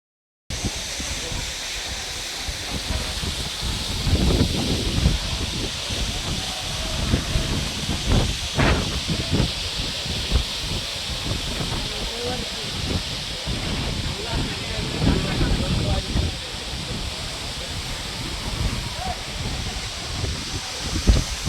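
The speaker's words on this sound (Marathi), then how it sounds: "वारा आणि पाणी या दोन निसर्गाच्या महाशक्तींचे युद्ध" Wind and fast-rushing waterfall water at Lingya Ghat in the Temghar area keep up a continuous loud roar and hiss for the whole stretch, with gusty swells and no pause.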